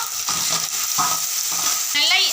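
Small shallots frying in oil for a garlic curry, a bright continuous sizzle broken by a few rhythmic stirring scrapes, close and fairly loud, no voices.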